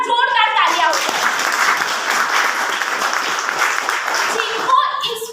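An audience applauds at a magnetic product presentation in Ahmedabad, a loud, dense burst of clapping that holds steady for several seconds while voices carry over the start and end.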